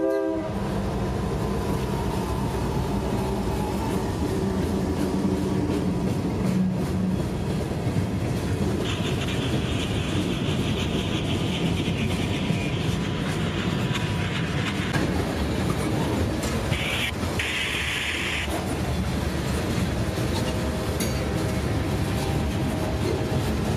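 Freight train Q453 rolls past the Winston Y at close range, a loud steady rumble of wheels and wagons with clattering rail joints throughout and bright horn or whistle blasts sounding partway through, no voices over it.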